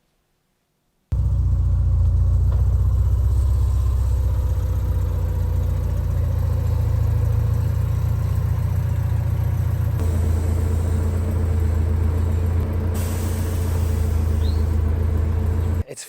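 A lowered car's engine starts up outside and runs under its own power, a loud, steady low rumble at idle that holds throughout, with a slight change in tone partway through.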